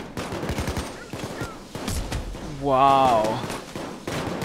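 Gunfire in the game Payday 2: rapid bursts of close shots that rattle over about four seconds, with someone talking and exclaiming over them.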